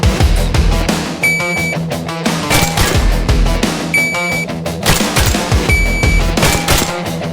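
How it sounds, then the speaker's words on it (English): Gunshots from the VR shooter Tactical Assault VR, sharp repeated reports in small groups over a dense, steady game soundscape, each burst loud and close. "We're going to engage 2 rounds and then back into the high ready position."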